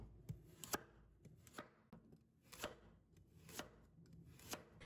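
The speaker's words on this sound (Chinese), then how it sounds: "然后给它切成薄片。" A knife slices a peeled carrot into thin slices on a cutting board: sharp, close chopping strokes, about a dozen in an uneven rhythm, crisp and distinct against a quiet background.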